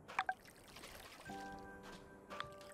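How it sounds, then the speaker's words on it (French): Watering crops by hand in the farming game Farm Together 2 makes a soft pouring splash that runs for a second or so, with small clicks and chimes around it, all quiet. "Je vais devoir arroser à la main."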